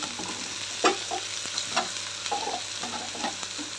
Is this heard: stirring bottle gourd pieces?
yes